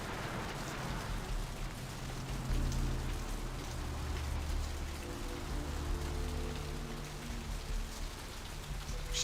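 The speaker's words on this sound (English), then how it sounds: "Still raining in Santa Monica." Rain pattering steadily on surfaces in Santa Monica in the game Vampire: The Masquerade – Bloodlines, a dense, even wash with a low rumbling undertone that swells slightly partway through, with no voices.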